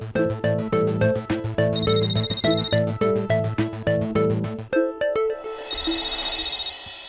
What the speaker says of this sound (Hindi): मम्मी जी देखिए, मेरे फोन पे किसी का फोन आ रहा है।